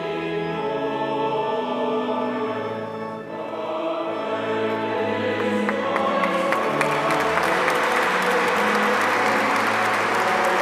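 Crowd applause during a religious procession as a relic of Carlo Acutis' heart is raised by a cardinal; steady, sustained clapping throughout, swelling slightly louder in the second half, with singing or music underneath.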